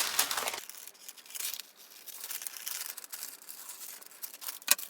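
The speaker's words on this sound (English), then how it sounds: "cut along that outside edge of the facing" Scissors cutting along the outside edge of a paper sewing pattern piece, soft crisp snips and paper crinkling, close and quiet with no talk.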